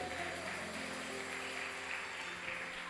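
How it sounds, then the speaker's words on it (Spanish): A church congregation claps for the blessed women during a sermon, a dense, steady wash of applause lasting throughout with faint musical tones underneath. "Dale un aplauso a esas mujeres bendecidas."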